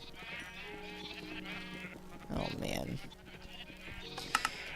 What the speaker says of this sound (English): why is there an orange sheep in there?